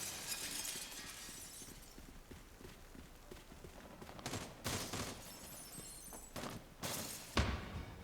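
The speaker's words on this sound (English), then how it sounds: "Now they're just shooting out the glass." In America's Army: Proving Grounds, glass is shot out amid gunfire: a steady bed of rattling debris, then several loud sharp bursts of shattering and shots in quick succession near the end.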